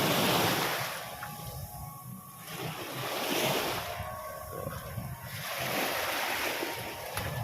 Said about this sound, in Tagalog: Medyo ngayon, maalon yung dagat